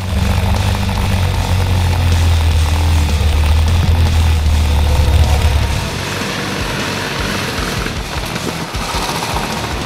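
A Royal Enfield Bullet 500 single-cylinder motorcycle engine runs steadily with a deep, low, even thrum, loud and close, then eases to a lighter, lower-pitched note partway through.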